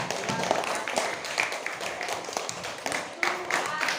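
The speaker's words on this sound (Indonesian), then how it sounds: "Bagus sekali, tepuk tangan." Children in a fourth-grade Islamic studies class clapping their hands, a loose scatter of claps and taps at moderate volume, with faint voices underneath.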